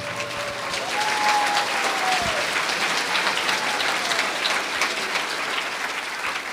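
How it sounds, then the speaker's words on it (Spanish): A church congregation breaks into loud, sustained applause, a dense continuous clapping that fills the space, with a brief tone sliding underneath early on. "Fuerte aplausos, Iglesia de Cristo."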